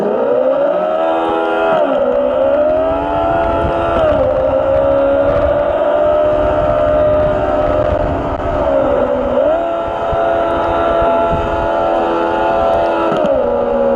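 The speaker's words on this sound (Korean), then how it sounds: "가상 사운드도 매뉴얼 모드라 연동을 하네요 약간 다운시프트 된 것처럼 이 소리가 윙 RPM이 올라가는 속도 소리가 좀 들립니다" The simulated engine of a Segway Ninebot go-kart rigged as a sim racer whines loud and close, its pitch climbing and dropping with several shifts, and no voices.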